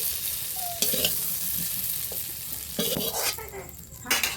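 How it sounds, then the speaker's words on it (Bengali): Lightly fried potatoes are lifted out of a hot wok with a spatula: a continuous oily sizzle runs underneath while a few metallic scrapes and clinks sound close by. "দেখুন আমার আলুটা ভাজা হয়ে গেছে, হালকা করে আমি ভেজে নিয়েছি। কড়াই থেকে তুলে নিচ্ছি।"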